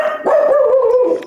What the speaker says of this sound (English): They're such noisy puppies.